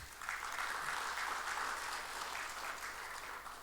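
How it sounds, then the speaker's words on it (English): An audience at a budget analysis event gives sustained applause to welcome a keynote speaker, a steady wash of clapping that lasts a few seconds at moderate, somewhat distant level before easing slightly at the end. "let me welcome him with a big round of applause from everyone"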